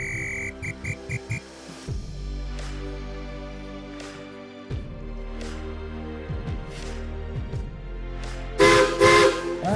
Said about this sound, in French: Alors, ben, je vais y mettre un petit sifflet.